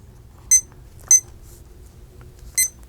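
Three short, bright electronic beeps from a kitchen-style timer being set, spaced unevenly about half a second apart, close and clear over a faint low background hum.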